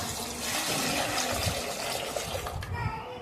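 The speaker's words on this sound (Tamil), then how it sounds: "நான் ஒரு சம் தண்ணி ஊற்றிக்கிட்டேன்" Water poured into a pressure cooker holding washed raw peanuts, a steady broadband rushing splash that runs continuously at close range for a few seconds.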